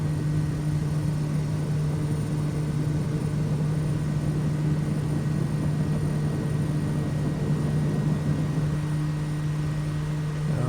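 Kodiak 100 single-engine turboprop in Microsoft Flight Simulator 2020 at takeoff power, a steady loud droning hum with a constant tone and even rumble throughout, no speech.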